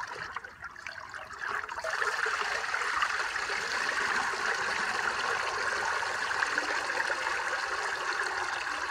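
Bleach solution streaming and trickling off a bear hide, a steady close watery splatter that swells after a quieter start and keeps running.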